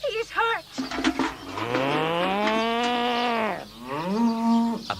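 A cow lows in a long, drawn-out moo as a sound effect in a radio play of Henry Fielding's Joseph Andrews, loud and close, with shorter bleating calls before and after.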